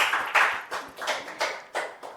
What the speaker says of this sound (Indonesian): Berikan tepuk tangan dulu dong untuk Mas Sarif.